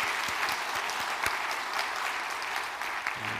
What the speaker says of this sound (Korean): 감사의 박수 한번 올려드리겠습니다